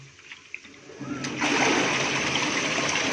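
A strong water jet bursts on and gushes loudly during deep cleaning of a Panasonic top-load washing machine, splashing and spraying steadily after a short, quieter start.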